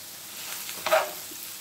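Nola fish dropped into a hot pan with vegetables and onions, giving a steady soft sizzle that swells briefly into a louder hiss of frying before settling back.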